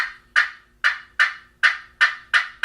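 A slate turkey call played with a hickory striker, cutting: eight sharp, loud, evenly spaced high-pitched clucks, each starting abruptly and then fading, with no talking.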